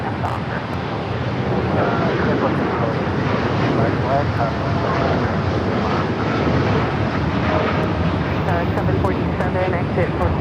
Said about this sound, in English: Air China Freight 3126 heavy, runway 25 right, clear for takeoff